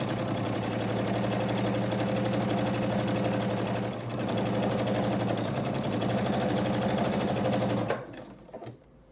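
A sewing machine runs steadily for several seconds stitching quilt fabric strips with a quarter-inch seam, making a close, loud, rapid whirring hum that pauses briefly once and then slows and stops near the end.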